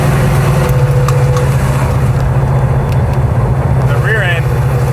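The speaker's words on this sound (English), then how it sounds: "The rear end is hopping up and down. Rear end is loud." A loud, steady low drone of a vintage circle-track Dodge Charger's rear end while driving at speed, with cabin rumble throughout and people talking over it.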